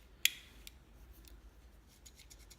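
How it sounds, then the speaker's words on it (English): Quiet metallic snips and clicks from the thick, stout scissors of a Leatherman Surge multitool opening and closing, one sharper snip near the start followed by softer, scattered clicks. "It also comes with some incredibly stout scissors."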